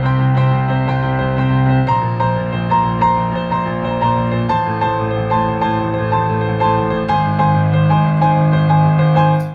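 A driving rock piano riff, chords and bass notes hammered in a steady, busy rhythm, loud and continuous with no voices.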